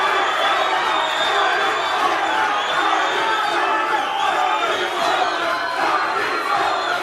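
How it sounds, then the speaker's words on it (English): Boxing spectators chant a fighter's name late in a bout, a steady, loud mass of shouting voices sustained throughout without a break. "Well, the crowd is shouting Tommy now"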